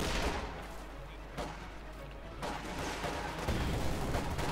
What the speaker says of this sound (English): There we go, the second infantry gun opens up.